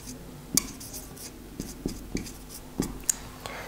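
Writing on a board, faint scratchy marker or chalk strokes and light taps in an uneven rhythm, heard close and alone.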